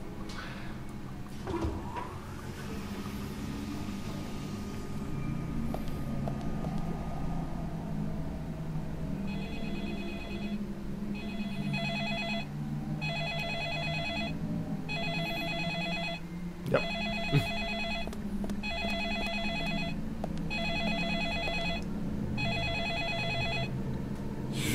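A telephone rings in the video game Deadly Premonition, its repeated bright electronic bell bursts arriving in a steady regular pattern over a low room hum, with a few scattered clicks and knocks.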